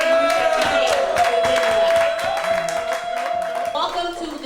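Applause and crowd noise from a music industry meeting audience welcoming a guest artist, dense clapping with voices mixed through it, loud at first and tapering slightly toward the end.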